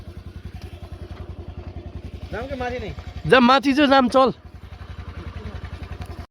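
A scooter engine idles near a forest trail, a steady rapid putter running throughout while people talk loudly over it in the middle.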